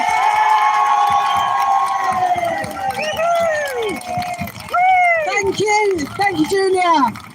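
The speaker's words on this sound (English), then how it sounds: "So let's give a big cheer." A live rally crowd cheers and whoops, loud and close, with high shouts and excited voices rising and falling over a continuous roar of the audience.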